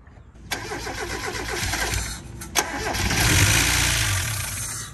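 A Mazda Miata being revived after sitting abandoned cranks and fires, stumbles once, then runs on at a rough, uneven idle with a slight rattle, sounding close and fairly loud.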